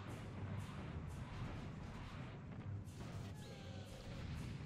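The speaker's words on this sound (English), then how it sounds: "These rockets are devastating" Rocket explosions in the first-person shooter Serious Sam, a dense run of heavy booms and blasts rolling one into the next at close range, with no talk over them.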